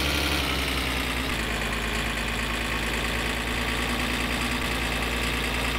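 Steady, droning car engine in the video game My Summer Car, held at high load as the car accelerates hard, a constant rumbling tone with no breaks, heard alone.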